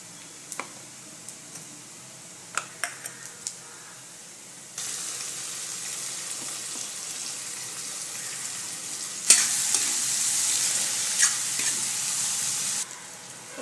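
Cumin seeds and a pinch of asafoetida drop into hot oil for a capsicum dry bhaji, starting a steady close sizzle after a few light clicks, then flaring louder before cutting off near the end.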